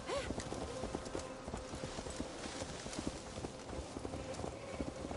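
Steady clip-clop of horse hooves in the video game Assassin's Creed Valhalla, a quick even trot of fairly faint, close footfalls continuing throughout with no talking.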